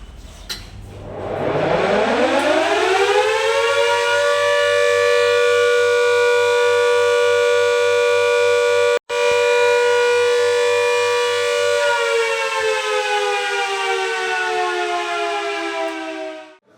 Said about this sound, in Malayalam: അരനൂറ്റാണ്ടായി മാരാരിക്കുളം ഗ്രാമത്തിൽ മുഴങ്ങിയ സൈറൺ നിലയ്ക്കുന്നു